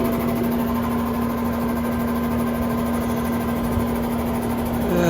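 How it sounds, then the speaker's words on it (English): A slow-running air conditioner condenser fan motor with a failing capacitor drones steadily, a loud, constant hum with a sharp tonal whine and mechanical vibration throughout. "It sounds like the fan's gonna die, by the way."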